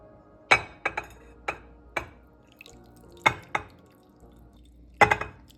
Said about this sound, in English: And then you pour it into the bowl.